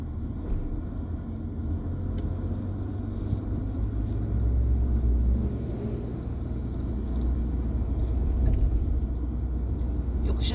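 A manual car's engine rumbles steadily from inside the cabin as it accelerates in second gear, a low continuous drone that rises only slightly, with no clear speech over it.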